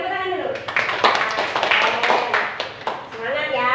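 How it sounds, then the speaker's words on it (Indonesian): A class of students in a school lesson claps their hands in a quick burst of rhythmic clapping, with a teacher's voice speaking over it at the start and end. "Oke, tepuk tangan dulu."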